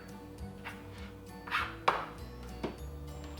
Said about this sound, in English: I've got some cherry tomatoes that I'm just gonna slice up